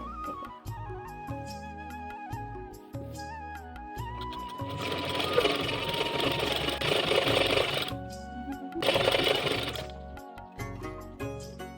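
A sewing machine stitches Patiala pants in two sustained runs, a close, busy mechanical whir over background music, with the machine falling quiet between bursts.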